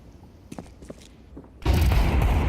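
Gunfire in Counter-Strike during a pro esports match: a few faint thumps at first, then from about 1.6 s a loud, dense burst of shots and explosive noise that holds steady to the end.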